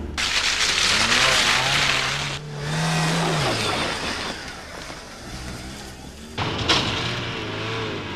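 A 1997 Land Rover Freelander under hard vehicle testing, the engine revving and accelerating with tire squeal, swelling and fading as it passes, with a loud surge near the end.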